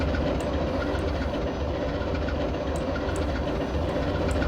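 A locomotive engine starts up and runs in the yard in Train Simulator, giving a loud, steady rumbling drone throughout with a few faint sharp clicks on top.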